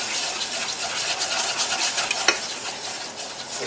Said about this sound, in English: And as you see, I'm constantly stirring.